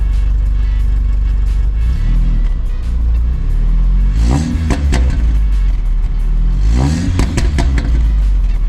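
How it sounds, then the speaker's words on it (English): An Audi S3's loud idling engine, fitted with a new IE exhaust, is revved twice, each rev rising sharply then falling back to a steady rumble. "go ahead, give it a couple revs"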